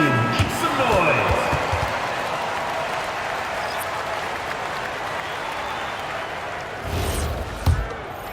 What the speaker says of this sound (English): And please give us a big round of applause